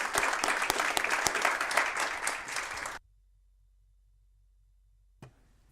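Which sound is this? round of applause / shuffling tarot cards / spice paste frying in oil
round of applause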